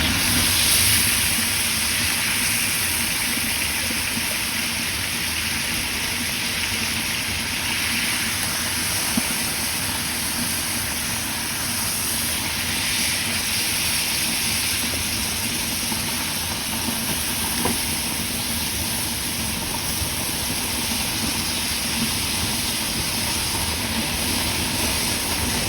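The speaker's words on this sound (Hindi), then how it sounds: "दोनों साइड से हम इसी तरह से इसको फ्राई कर लेंगे।" Chicken pieces frying on a street-style tawa in a yogurt masala, a dense, steady hiss and crackle holding at one level for the whole stretch, close and continuous with no voices.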